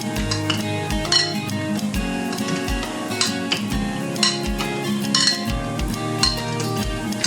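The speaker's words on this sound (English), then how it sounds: "Now I'm going to mash it up, leaving it in pretty good sized chunks." Cooked squash for fritters is mashed into chunky pieces in a pot, a steady rhythm of dull knocks and metallic scrapes with clinks of the utensil against the pan, close and fairly loud.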